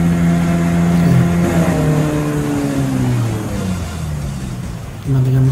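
A vehicle engine hums steadily in an audio game, its pitch sliding down as if slowing, then resuming near the end, loud and continuous with no talk.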